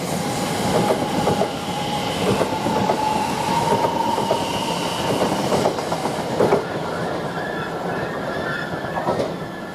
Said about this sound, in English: squeaky brake time from the Elizabeth line from Heathrow Airport Terminal 5